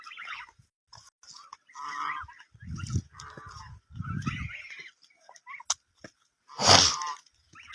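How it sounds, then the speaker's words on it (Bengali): Village ducks give loud, irregular nasal quacks and honks at close range, in bursts separated by short pauses, with one especially harsh call near the end. "হাঁসগুলো খুব দুষ্ট, মানুষটা ঠোকরায়।"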